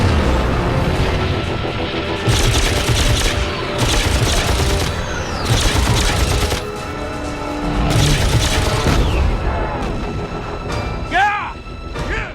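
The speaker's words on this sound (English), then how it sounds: "These are obviously autocannons" Multi-barrel rotary autocannons of a Gatling-type design fire in repeated loud, rapid bursts with booming reports, separated by short pauses, while someone talks over the gunfire.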